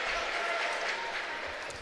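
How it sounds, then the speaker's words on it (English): At a college basketball game, a crowd claps and cheers in a continuous noisy wash, with an announcer's voice running over it. "And Coach Hallett applauds the effort."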